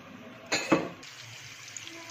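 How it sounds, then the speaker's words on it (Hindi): Chicken frying in a pan at home: a couple of sharp clatters, then a soft, steady sizzling hiss that carries on quietly to the end. "हमारा चिकन फ्राई हो रहा है।"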